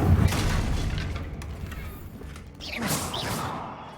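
A Confringo blasting spell going off in Hogwarts Legacy: a heavy booming blast at the start that settles into a rumbling, crackling tail, with a fresh burst of higher debris-like noise near the end.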